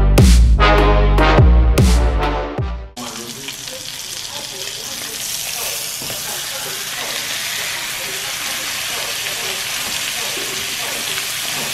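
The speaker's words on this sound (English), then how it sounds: "I am going to put a heaping amount of butter in the pan to fry them in, and a big scoop of garlic." Steaks fry in a pan of butter and garlic with a steady, loud sizzle that runs throughout, following a few seconds of louder clattering at the start.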